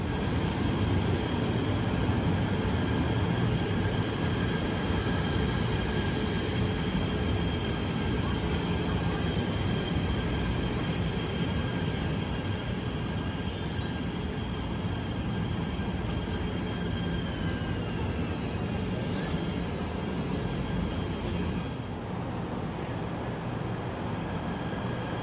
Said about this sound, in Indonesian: Ini dia KRL yang bakal kita naikin teman-teman menuju ke Batu Caves.